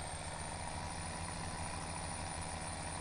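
A International 4186 tractor idles in Farming Simulator 17, a steady low diesel rumble with a constant vibrating drone, continuous and fairly loud throughout with no talk.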